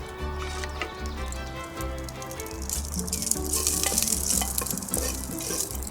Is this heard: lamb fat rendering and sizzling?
yes